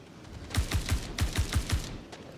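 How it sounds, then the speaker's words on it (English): A rapid video game gunfire burst, about eight sharp shots in two quick clusters with a short pause between, fairly close and alone, with no voices over it. "My gunshot."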